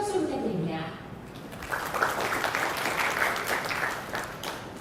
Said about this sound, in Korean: 박수 주셔서 감사합니다.